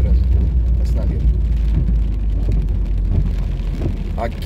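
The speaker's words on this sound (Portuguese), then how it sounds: "Continua chovendo, a chuva não para, impressionante." Heavy rain pours over city streets in Porto Alegre during a thunderstorm, heard from a car stopped at a traffic light, a loud steady wash with engine rumble and scattered splashes and faint voices.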